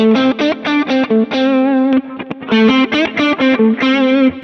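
Overdriven electric guitar through an overdrive pedal playing a bright, punchy riff of short repeated notes and chords, close and fairly loud, with a slight gritty edge.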